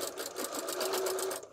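A home sewing machine runs steadily, stitching a quilt-as-you-go Christmas stocking with a fast, even whirring rhythm up close, then stops abruptly at the end.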